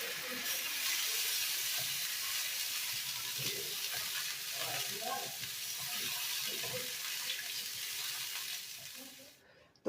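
Potatoes bubble and sizzle in a pan after a bowl of water goes in, a steady hissing simmer with faint murmuring voices under it, fading slightly toward the end.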